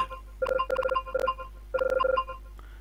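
Short Game Boy-style electronic volume-adjustment beeps play in quick rhythmic bursts, a few groups of rapid tones separated by brief pauses, clear and close with no voices.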